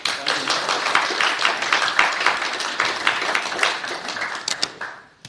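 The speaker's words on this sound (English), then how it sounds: "one more round of applause for the really good" An audience at a meeting gives a round of applause after a talk, a dense crackle of many hands clapping close by that thins into a few final claps and stops.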